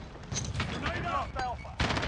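Grenade blast and gunfire from a military shooter video game, a dense run of booming shots and blasts with a sharp loud burst near the end, mixed under a voice calling out.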